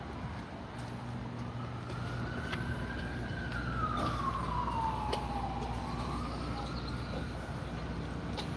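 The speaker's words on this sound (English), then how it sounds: "Oh, are those sirens for me?" A siren wails in the distance, its pitch rising and then sweeping down, over a steady low rumble of traffic.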